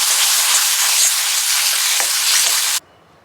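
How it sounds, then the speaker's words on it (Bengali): Potatoes fry in a pan with a loud, steady sizzle and hiss that holds for nearly three seconds and then stops abruptly. "এবার একটু ভাজা ভাজা করে নিলে আলু বেটার হয়ে যাবে খেতে।"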